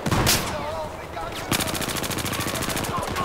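Rapid gunfire from a .44 Magnum revolver in the video game Battlefield 4, a loud burst early on, then a dense, steady rattle of close shots in quick succession through the second half.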